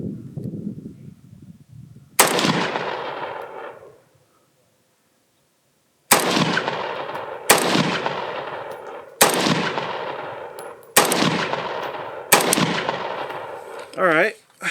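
Six sharp gunshots from 5.56 AK rifles, a Zastava M90 and a Mini Beryl, fired one at a time with gaps of a second or more, loud and close, each echoing away, with a pause after the first.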